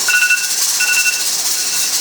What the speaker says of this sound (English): So our pressure canner is at 11 pounds of pressure.